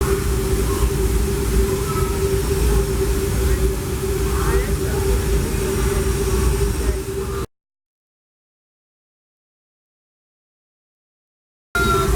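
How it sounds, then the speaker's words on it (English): A Disneyland Railroad train rumbles loudly with a steady low drone and hum pulling into Tomorrowland Station, then the sound drops out abruptly before returning briefly. "we're pulling into Tomorrowland Station right now"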